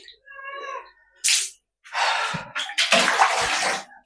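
Water is poured to rinse a bathroom, making splashing gushes in several bursts of varying length after a brief voiced sound at the start, close and fairly loud.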